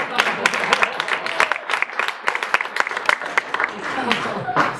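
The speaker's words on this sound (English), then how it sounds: "Round of applause for Holly." Clapping from an audience at a mobile technology event, a loose patter of individual claps with uneven bursts, and voices talking over it.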